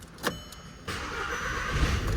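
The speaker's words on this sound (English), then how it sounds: "now I can start the car" An Audi with a rough idle after cam and crankshaft timing repair cranks briefly and then catches, settling into a steady running engine noise that continues to the end.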